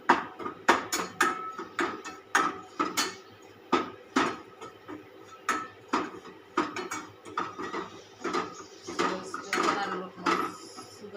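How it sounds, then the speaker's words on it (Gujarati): Gram flour roasting in an oiled pan for masala bhindi, stirred with a utensil that clanks and scrapes against the metal in a steady repeating rhythm, close and fairly loud. "થોડો ચણાનો લોટ શેકી નાખીએ"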